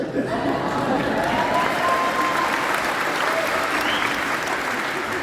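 An audience bursts into sustained applause, dense steady clapping from a crowd filling the whole stretch, with faint voices mixed in.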